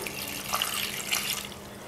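Water pours steadily into a pot of beef biryani, a close hissing splash lasting a couple of seconds with no talking.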